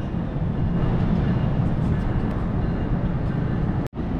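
A New Jersey Transit local train on the North Jersey Coast Line pulls out of Little Silver station toward New York Penn Station, a steady broad rumble at moderate distance that cuts off abruptly near the end.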